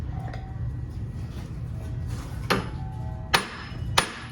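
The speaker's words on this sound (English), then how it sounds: "Let's see if the CV axle will push back. Just give it a couple hammer blows." Hammer blows strike a rusty CV axle during rear wheel bearing replacement on a 2016 Jeep Compass: three sharp metallic impacts, loud and close, spaced about a second apart over a low background hum.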